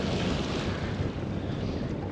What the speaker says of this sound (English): Quite a bit of breeze there